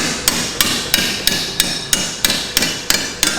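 Metal clamped in a vise is struck with a hammer, about ten loud, evenly spaced ringing blows close by with no talking.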